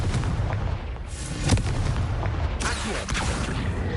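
The Confringo explosive spell in Hogwarts Legacy bursts with deep, booming blasts, a couple of heavy impacts rolling over a dense, rumbling background.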